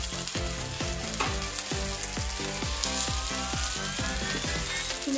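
Tandoori chicken cooking in a pan over a low flame gives a soft, continuous sizzle beneath loud, rhythmic background music with a pulsing beat, and no one speaks.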